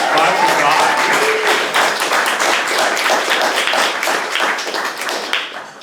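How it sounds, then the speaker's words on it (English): An audience at a poetry reading event applauds an open mic reader, dense loud clapping that holds steady for several seconds before tapering off, with some voices mixed in. "Can we get a round of applause for the open mic reader?"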